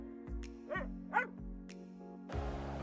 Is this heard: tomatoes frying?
no